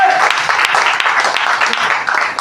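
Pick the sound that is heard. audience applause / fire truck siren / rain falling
audience applause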